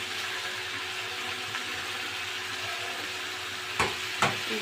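Malabar spinach seeds fry in a pan with a steady close sizzle and hiss, and two sharp scraping clacks of stirring come near the end.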